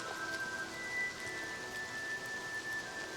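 Steady rain hiss in Oblivion Remastered, a soft even wash of falling rain without distinct drops, fairly faint and continuous, with a thin high tone running through it.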